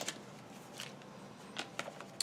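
Comic books slide out of plastic bags during an unboxing, faint crinkling rustles and a few sharp plastic scrapes up close in a quiet room.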